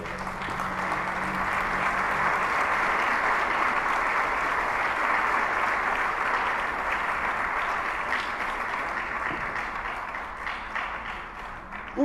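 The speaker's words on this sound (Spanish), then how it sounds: "Denle un aplauso a Él." A church congregation applauds during a sermon, with loud, dense and sustained clapping from many hands that carries on for several seconds before tapering slightly at the end.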